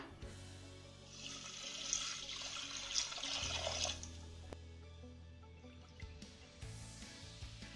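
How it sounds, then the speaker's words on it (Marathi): Toor and moong dal being rinsed in water, with a steady rush of running water and sloshing that sets in after about a second, lasts roughly three seconds, then fades to quiet kitchen background. "आता या दोनही डाळी आपण दोन ते तीन पाण्याने स्वच्छ धुवून घेऊया"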